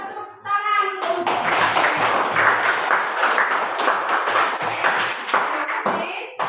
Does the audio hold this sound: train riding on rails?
no